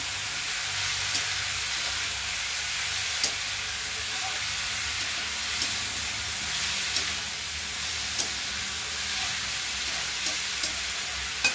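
Steady frying sizzle of dal and cabbage cooking in a pan, with occasional faint clicks of a spoon stirring, continuous and moderately loud throughout.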